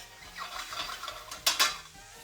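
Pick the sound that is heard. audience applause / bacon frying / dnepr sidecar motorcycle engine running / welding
bacon frying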